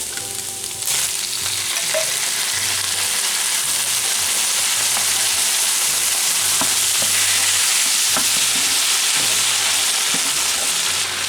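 Ground beef and canned diced tomatoes with green chilies sizzle steadily in a hot pan, close and continuous, with scraping stirs that recur through the sizzle.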